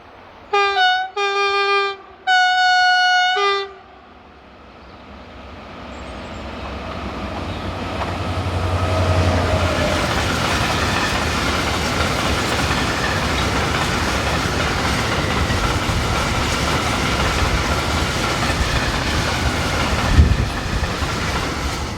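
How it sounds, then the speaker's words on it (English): Electric locomotive E4043 hauling empty hopper wagons near Roux sounds three horn blasts, then rumbles past with a swelling, sustained roar of wheels and clattering wagons. "number E4043 heads another set of empty hoppers"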